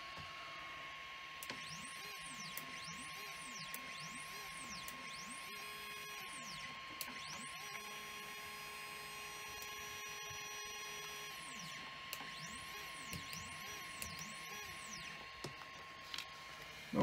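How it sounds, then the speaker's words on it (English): CNC 3018 Pro router's stepper motors drive the track back and forth, giving close rising and falling electronic whines with sweeping pitch and steady held tones, punctuated by small clicks. "Our track moves back and forth nicely."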